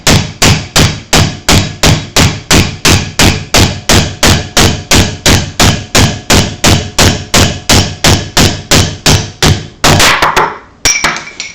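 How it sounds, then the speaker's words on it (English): Wood stock is driven through the 5/8 inch hole of a steel dowel plate, the hammer landing in a steady run of about thirty sharp, loud blows at a quick even pace before a brief scrape and clatter at the end. "just start nailing it through, and you can see that it's pulling it up here and chiseling it away."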